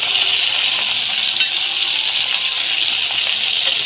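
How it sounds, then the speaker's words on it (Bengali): Pointed gourd (potol) frying in hot oil in a pan, a steady loud sizzle with light stirring, heard alone. "তেলটা গরম হয়ে গেছে এবার আমি পটলগুলো ভেজে নেব"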